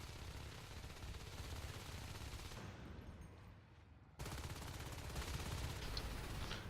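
Competitive first-person shooter match gunfire, faint and distant: a steady crackle of shots runs throughout, briefly dips, then returns with full density. No voices are heard.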